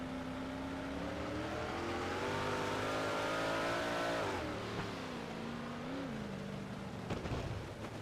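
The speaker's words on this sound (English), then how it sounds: "You heard him crack the throttle again after he was trying to put the power back down." A race car engine at Lucas Oil Speedway revs hard and loud with a steady rising drone, then the driver cracks the throttle, the pitch dipping and surging in short bursts near the end.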